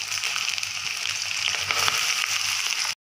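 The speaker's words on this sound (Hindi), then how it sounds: "अब इसमें हम कुटे हुए हरे चने डालेंगे।" Crushed green chickpeas hitting hot oil with browned cumin seeds in a pan on a high gas flame, a steady bright sizzle and crackle that holds for a few seconds and then cuts off abruptly.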